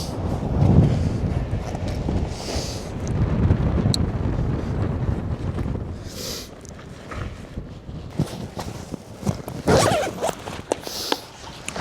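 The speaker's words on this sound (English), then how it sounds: "it's a bit windy here." Strong wind gusts buffet the microphone on an exposed Arctic mountain peak in Norway in rough conditions, a loud, uneven rumble that swells and drops throughout, with fabric rustling close by.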